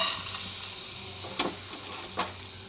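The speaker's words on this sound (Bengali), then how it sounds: "এবার শুকনো তাওয়ায় ডালগুলোকে ভেজে নেব" Soft steady sizzle and hiss of soaked, drained lentils dry-roasting on a hot tawa, with two brief scraping stirs standing out near the end, close and fairly quiet, no voices.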